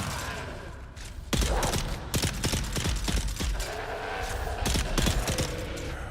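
Gunfire in the Dune: Awakening video game, a dense run of sharp bursts and thuds, loud and close, with mechanical clanks between the volleys.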